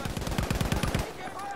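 Rapid automatic rifle fire in the tactical shooter Squad, a fast burst of about nine evenly spaced loud shots lasting a second, then quieter battlefield ambience with no talk.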